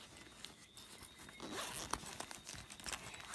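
The zipper on a backpack's rear pocket is pulled open close by, a quiet rasping run of zipper teeth lasting a few seconds with faint rustling of fabric alongside it.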